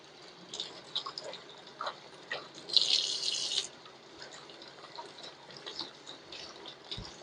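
Water runs from a tap while a limed egg is washed under it in a kitchen sink, soft trickling and splashing with a brief stronger gush midway, fairly quiet and close, no speech.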